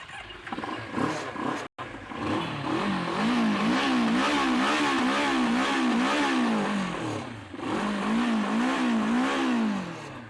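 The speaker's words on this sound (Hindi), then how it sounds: "एग्जॉस्ट नोट कैसा है वो मैं आपको सुनाता हूँ" A car engine revving hard through its exhaust, a loud, deep rumbling note that rises and falls in repeated waves of throttle after a brief pause near the start, heard close with no talking.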